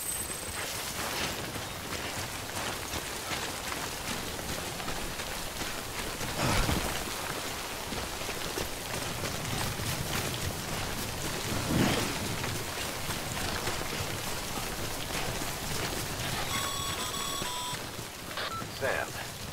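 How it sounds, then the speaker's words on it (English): Rain falls in the video game Death Stranding, a dense steady hiss with a low thunder rumble partway through and faint electronic beeps near the end, with a voice speaking over it. "Don't stay out in the rain any longer than you have to."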